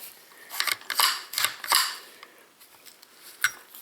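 A Ruger 10/22 rifle with a bolt release mod and BX trigger assembly, magazine removed, gives a few close, crisp metallic clicks and mechanical snaps as the bolt is worked and locked back, with one last sharp click near the end.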